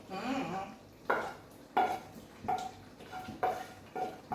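Liver being stirred into a pan of simmering Filipino menudo stew, a spoon scraping and knocking against the pan in several distinct strokes about every half second, with a soft sizzle underneath.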